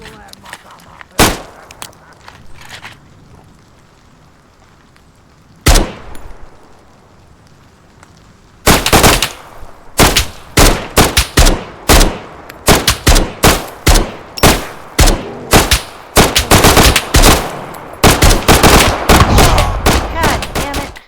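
Gunfire in the video game Road to Vostok: a few isolated shots, then dense, loud rapid bursts that continue to the end.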